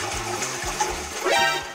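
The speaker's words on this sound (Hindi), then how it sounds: "अक्षय तो फ्लश कर, मैं पानी जमा।" A toilet flushes with a steady rush of water that swells near the end, heard close up in a small bathroom.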